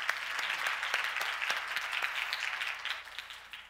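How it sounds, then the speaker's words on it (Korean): Steady audience applause at a Seoul forum session, dense clapping from a seated conference crowd held at an even level throughout. "박수 부탁드립니다"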